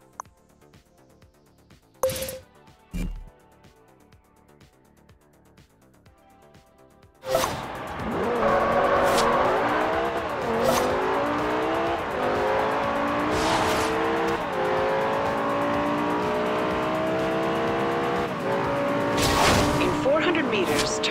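Car engine revving and accelerating on a road in the video game Forza Horizon 2, a loud, rising engine drone with tire noise and gear shifts that starts abruptly after a quieter opening with brief bumps.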